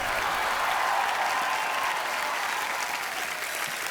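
A TV comedy show's studio audience claps loudly to welcome a superstar guest, with continuous, even applause at full strength for the whole stretch.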